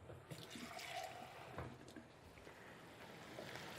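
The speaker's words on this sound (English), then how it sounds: "fill this up about a quarter of the way with water and throw that right in there" Water poured into a pot of beans and tomatoes, a faint continuous splashing and trickle that stays low and steady, no voices over it.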